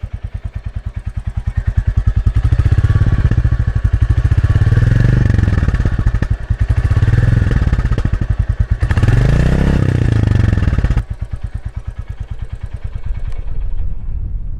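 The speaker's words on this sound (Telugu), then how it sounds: "సో యాక్చువల్లీ దీని ఎగ్జాస్ట్ నోట్ అయితే చాలా బాగుంది, చాలా బేసీ ఉంది." A new fuel-injected Royal Enfield Classic 350 motorcycle revs loudly up close, its deep, bassy exhaust note swelling in several throttle blips over a steady idling thump, then settling back to idle.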